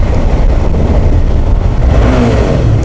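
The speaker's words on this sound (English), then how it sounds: "This is the stock exhaust, by the way. That's just such a good sound." A Suzuki V-Strom 650 XT motorcycle engine with stock exhaust rumbles loudly and close, with a deep throaty exhaust note that swells briefly as the throttle is blipped.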